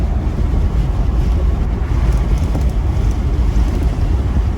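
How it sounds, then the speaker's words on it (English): Constant loud wind rumble buffeting the microphone while driving, a dense low roar with no pauses. "you can hear me over the wind"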